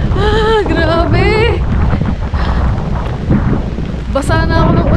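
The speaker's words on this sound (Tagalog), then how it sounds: "Lakas ng hangin." Strong wind lashing through heavy rain, a loud continuous roar and microphone buffeting up close, with a voice crying out briefly near the start and again near the end.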